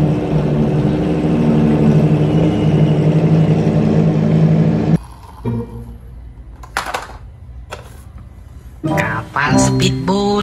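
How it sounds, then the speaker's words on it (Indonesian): A toy racing car's engine sound effect revving in a loud, steady whir for about five seconds, then cutting off, followed by scattered clicks and short bursts of sound. "Mobil balap."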